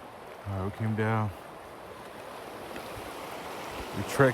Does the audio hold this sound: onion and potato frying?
no